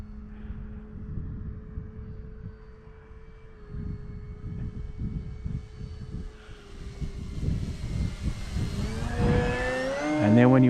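An E-flite Carbon-Z C 150T RC airplane with a 2.1 m wingspan flies steadily with a sustained electric motor drone, and the pitch rises as power is added into a turn near the end.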